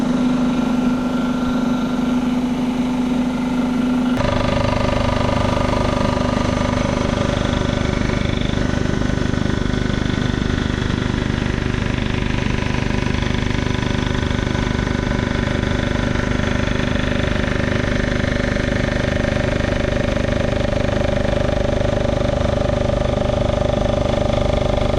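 A crankshaft grinding machine runs through its final cut, a loud steady mechanical drone and hum with a faint sustained whine, shifting in tone after the first few seconds and then holding constant.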